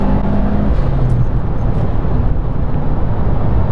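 A turbocharged car engine pulls hard in third gear from 3,500 rpm, a loud, steady, dense roar heard from inside the car with no pauses and no voices.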